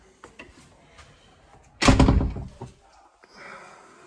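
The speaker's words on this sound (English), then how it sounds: "Close the door behind me." A door closing at the entrance of an empty stone house in the French countryside, a loud thump with a brief rattle in the middle of the clip, followed by quieter shuffling and room noise.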